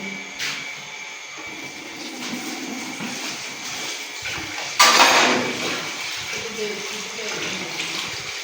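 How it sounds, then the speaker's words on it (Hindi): Tap water runs steadily while rice is rinsed for dal chawal in a home kitchen, with a louder splash and gush about midway before settling back to a constant flow. "पानी वगैरह डाल के रख दिया, तो चावल जो है हम धो लेते हैं और फिर वो भी डाल देते हैं उसमें"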